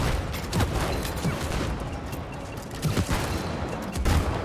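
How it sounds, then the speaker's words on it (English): Gunfire in the video game It Takes Two, a few sharp bursts of shots popping at intervals over a busy game background, moderately loud and close. "Can only shoot 3 at a time."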